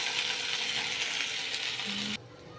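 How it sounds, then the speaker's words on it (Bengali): Potatoes fry with salt and turmeric in hot oil in a pan, making a steady close sizzle that cuts off abruptly near the end, leaving quiet. "এবার আলুগুলোকে একটু নুন হলুদ দিয়ে হালকা করে ভেজে নেবো।"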